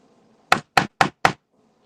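Four sharp, evenly spaced hammer strikes land close and loud in quick succession, with near silence before and after.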